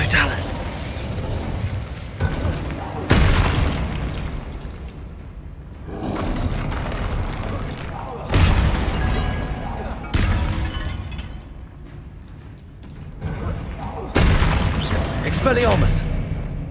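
Bombarda spell blasts in the video game Hogwarts Legacy, several heavy booming explosions in separate bursts with rumbling debris between them, under spoken voices.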